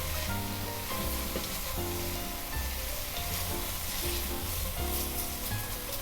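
Blackened cod and vegetable stew sizzles steadily in a pot while it is stirred and scraped, a continuous loud frying hiss with soft utensil movements underneath throughout.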